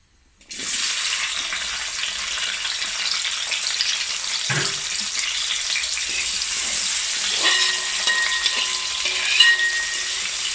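Onions dropped into hot oil in a heavy uruli pan burst into a loud, steady sizzle that starts abruptly and keeps hissing strongly, with a few faint stirring knocks, close up and without talk.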